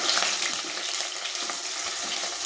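Potatoes dropped into hot oil for a vegetable curry, a bright, steady close sizzle that sputters softly throughout.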